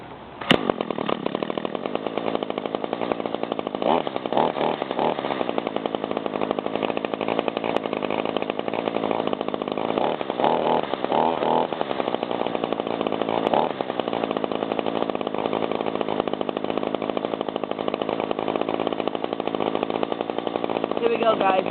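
An Echo GT 225 string trimmer's small two-stroke engine runs loudly and steadily throughout, with a brief rev surge near the start and minor wavering in pitch.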